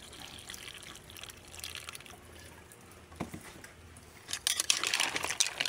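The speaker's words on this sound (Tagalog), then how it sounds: "Ayan, lalagyan natin siya ng tubig." Water is poured into a cooking pot for mussel soup, a steady trickling splash that grows louder and fuller toward the end, heard close with no talking.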